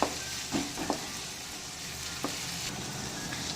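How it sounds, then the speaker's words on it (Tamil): Ripe tomatoes sauté with ginger garlic in gingelly oil for a Kerala-style chicken gravy, making a steady close sizzle with a few soft knocks of stirring. "தக்காளி நல்லா வதக்கி விட்டுக்கலாம்"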